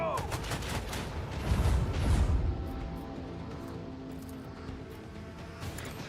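A starship's cannon salvo in the Warhammer 40,000: Rogue Trader video game: a heavy, booming volley of gunfire that swells to a loud peak, then settles into a lingering rumble, with a voice heard briefly.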